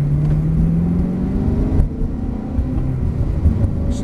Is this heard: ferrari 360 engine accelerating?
yes